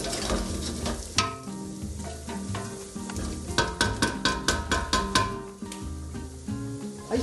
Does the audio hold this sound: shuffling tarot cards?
no